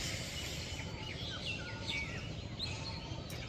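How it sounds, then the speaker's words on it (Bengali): Several birds sing and chirp at a distance on a village morning in Bangladesh, with scattered warbling calls over a steady low rumble of outdoor background noise. "পাখির শব্দ অনেক।"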